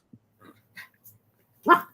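A Yorkshire terrier gives a sharp bark, faint short yips and whimpers scattered before one louder bark near the end, heard over a quiet background.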